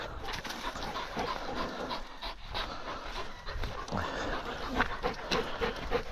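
A hunting dog pants steadily and close up after catching a full-grown rabbit outdoors, its quick rhythmic breaths continuing throughout with no talk over them.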